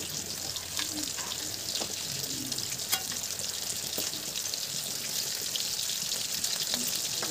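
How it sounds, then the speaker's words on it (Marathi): Potato vada fritters fry in oil over low heat, giving a continuous nearby sizzle with occasional small clicks and pops throughout. "कमी गॅसवरती चांगलं तळून घ्यायचेत वडे आपल्याला"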